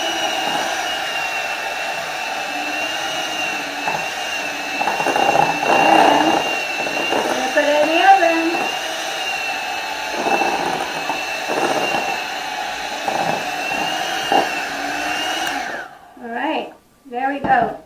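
Electric mixer whirring through apple cake batter with chopped apples, a steady droning motor hum lasting most of the clip before cutting off, with someone talking over it.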